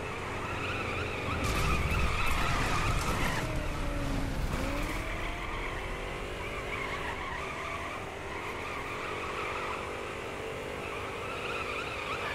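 Off-road vehicle drifting in the Baja Edge of Control racing video game, with a steady engine drone and tire skidding that swells in the first few seconds, all continuous and fairly loud with no talk.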